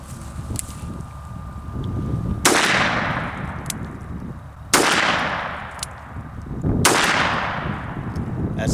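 Three loud, sharp revolver shots from a Taurus Judge chambered in .45/.410, spaced a couple of seconds apart outdoors, each with a long trailing echo over steady wind noise.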